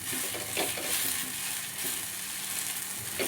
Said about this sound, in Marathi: म्हणून आता मी ह्या पुदिना छान असं भाजून घेणार.